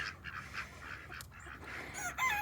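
Domestic ducks at their small, low coop honk and quack in short, near bursts over a steady outdoor background, with a louder cluster of calls near the end.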